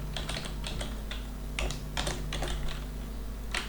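Code being typed on a computer keyboard: irregular runs of crisp, close key clicks with short pauses between the bursts, with no talking.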